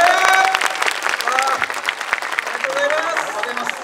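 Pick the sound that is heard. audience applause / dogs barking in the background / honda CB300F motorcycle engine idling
audience applause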